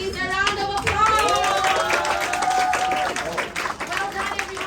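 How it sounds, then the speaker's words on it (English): An audience claps for poetry slam finalists at a grand finale, a steady burst of applause lasting several seconds that thins toward the end, with voices talking over it. "Can I please get everybody to give all of our finalists a round of applause?"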